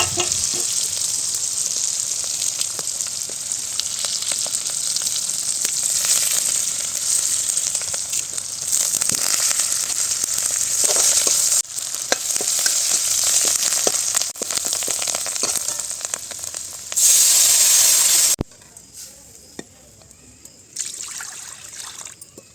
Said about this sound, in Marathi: कढीसाठी फोडणी करत आहे